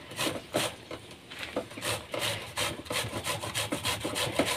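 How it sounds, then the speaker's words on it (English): Zucchini being grated on a grating machine, a steady run of rough, rhythmic rasping strokes close up, each pass scraping repeatedly with no talking. "We grate them using this machine here."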